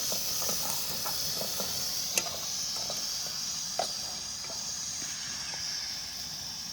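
Goat blood cooked with Malvani masala sizzles and hisses steadily in a pan, with faint scraping from stirring throughout.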